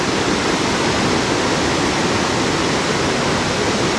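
Li Phi waterfall on the Mekong River in southern Laos gives a continuous, even rushing roar with no breaks, heard alone at a steady loud level.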